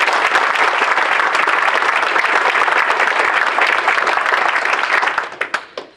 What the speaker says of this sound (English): So go ahead and clap for yourself.